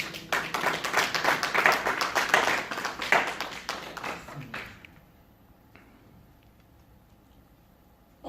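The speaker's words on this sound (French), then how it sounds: "Nous acclamons le Seigneur." Congregation clapping in church during a sermon, a dense burst of many hands applauding loudly for about five seconds before fading to near silence.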